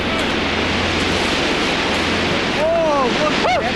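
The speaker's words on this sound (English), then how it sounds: "Then, finally, in the distance, they hear the river falling." Broad, steady roar of the Tsangpo river falling through a steep gorge, a dense continuous rushing wash that fills the whole clip, with a voice briefly speaking near the end.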